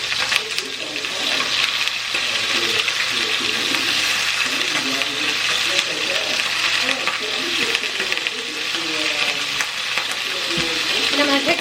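Food sizzles steadily in a hot pan after being turned over, a dense, continuous frying hiss close by, while a voice speaks over it.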